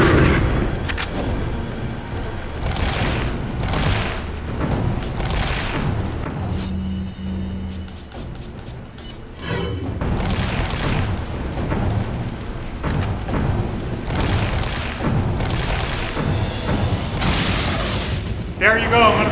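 Heavy rocket launcher blasts and booming impacts in Resident Evil 4 come in repeated bursts, loud and close, mixed with game effects and a talking voice.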